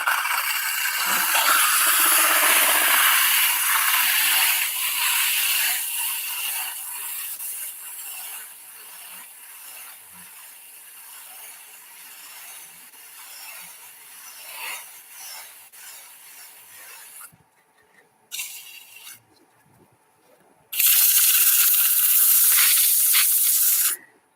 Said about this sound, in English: if I don't put a little sanding in it now, I won't get it done